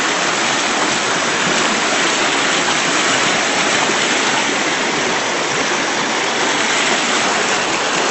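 Wide creek about 35 feet across on soggy, water-logged ground, its flowing water a steady, dense, close rush of broadband noise that holds constant throughout with no voices.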